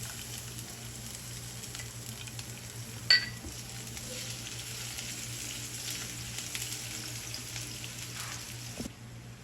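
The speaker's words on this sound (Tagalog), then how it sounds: "Magigisa na ako mga kabeshi." Carrots and chayote sautéing for miki guisado give a steady, quiet sizzle of frying vegetables in a pan, with a single sharp clink of a utensil near the start and another faint knock near the end.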